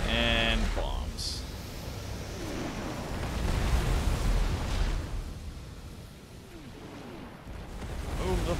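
Bombardment explosions rumble continuously in a StarCraft II co-op match, a dense, loud roar of blasts under game sound effects and a brief voice line.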